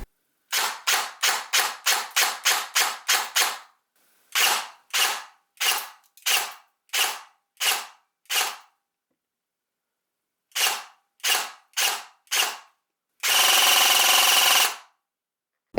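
An Arcturus AK12 airsoft rifle with a first-generation gearbox fires in sharp, close, snappy shots: a fast run of single shots, then spaced single shots, another short series, and a final sustained burst.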